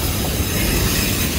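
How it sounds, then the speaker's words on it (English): A freight train emerges from the Hoosac Tunnel, the long hand-dug rail bore through a mountain, with a steady loud rumble of railcars and wheels squealing over the rails, close and continuous without talk. "So if you think this train looks like it's coming out of the side of a mountain"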